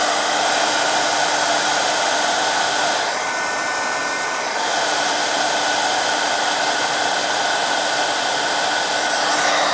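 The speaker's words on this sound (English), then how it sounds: "I'll just heat this until it's melted." A heat tool blows steadily and loudly at close range while melting crafting material, a continuous fan hiss with only a slight dip partway through.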